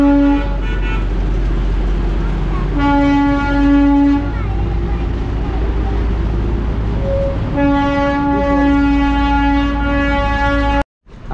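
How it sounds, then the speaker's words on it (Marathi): A train passes close by on a hill line in Darjeeling, sounding loud repeated horn toots over a steady rumble of wheels, ending in an abrupt cutoff. "तर अशी काहीतरी रेल्वे चालली भावांनो आपल्या पाठीमागं"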